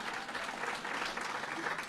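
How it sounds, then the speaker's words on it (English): A brief burst of crowd applause at Governor Cuomo's budget address in Rochester, broad and steady throughout with no clear speech over it. "Let's give him a round of applause."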